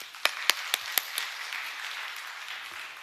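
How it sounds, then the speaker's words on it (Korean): Members of a church congregation give a handful of sharp, separate claps at a Sunday service, then the clapping thins out into a faint background hum. "박수 한번 쳐주세요."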